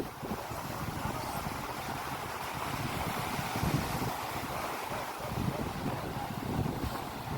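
Sea waves at Alexandria where people fish from the shore, a continuous rough wash of surf mixed with heavy wind buffeting the microphone, steady and enveloping with no talk.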